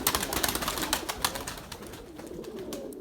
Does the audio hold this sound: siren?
no